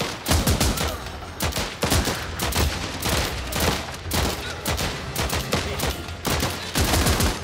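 Rapid bursts of gunfire from a combat scene in the video game Last Train Home, with troops shooting at an enemy vehicle; loud, dense volleys crackle almost continuously, with a few brief lulls between strings of shots.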